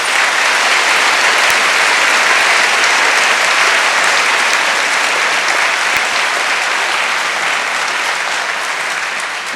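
Dense, steady applause fills a hall at a university degree ceremony, a large audience clapping continuously at a loud, even level for the whole stretch.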